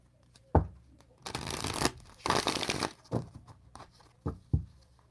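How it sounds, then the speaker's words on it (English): A deck of Mystical Forest oracle cards is shuffled close up, with sharp taps and two longer riffling bursts followed by a few soft knocks as the deck is squared. "Give it a quick shuffle."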